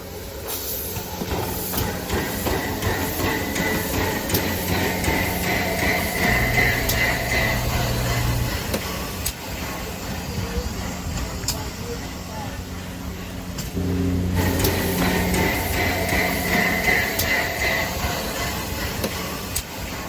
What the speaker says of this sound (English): Another successful train boarding.